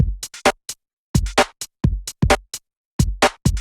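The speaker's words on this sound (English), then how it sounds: "the next component that I'm going to add in is a clap" Programmed clap layered with a snare drum in a UK garage beat, sounding as crisp, dry percussive hits in a repeating pattern, several per bar with short silences between, close and alone.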